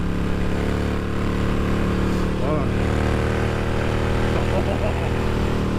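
A Harley-Davidson Sportster motorcycle engine idles with a steady low rumble while the clutch is worked, close and continuous; someone talks over the engine throughout.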